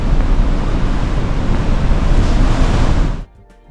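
Strong wind buffeting the microphone beside a cruise ship in Greece near Mykonos, with waves rushing below, loud and steady before cutting off abruptly near the end.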